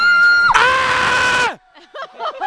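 A person screams loudly to set off a voice-activated attraction in a huge cave in China, one long sustained shriek that breaks off abruptly, followed by quieter excited voices.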